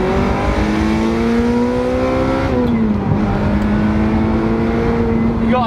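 A 1990s Ferrari 355 Spider on country roads in Essex, its engine revving hard with rising then falling pitch and a gear change midway, loud and close throughout.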